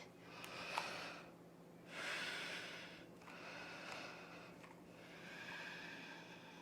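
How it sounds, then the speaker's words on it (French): Yoga breathing with long exhales through an open mouth, several slow, airy breaths close to the microphone, alternating with quieter inhales in a calm room. "Une bonne expiration, la bouche ouverte si on a besoin"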